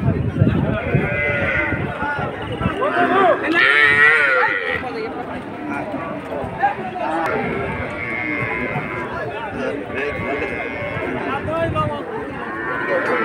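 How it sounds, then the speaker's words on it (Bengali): A cow acting up amid the crowd at a large rural cattle market, with animal calls rising over steady talk and shouting from traders and onlookers throughout. "খুবই চমৎকার একটি গরু পাগলামি করতেছে।"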